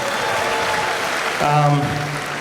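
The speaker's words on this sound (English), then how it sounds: "Another round of applause" Applause for a commencement lecture by an alumna at a matriculation ceremony, a steady broad patter of many hands filling the hall, with a brief tonal voice or sound rising briefly near the end.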